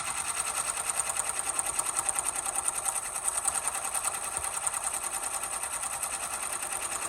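An embroidery machine stitches a Pegasus logo with a steady, continuous rapid needle chatter and a bright whine, running evenly and close throughout without pauses.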